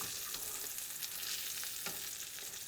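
Eye round steak sears in a hot pan, giving a steady, close, even sizzle with a few faint scrapes as the meat is moved through the fond, and no talking.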